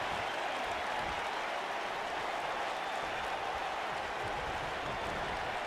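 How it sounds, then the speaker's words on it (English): A roaring arena crowd in the WWE 2K19 wrestling video game cheers and applauds steadily at a pay-per-view event, a dense, continuous wash of noise with no pauses. "I don't remember the last time I heard a more passionate crowd than the one we have here tonight"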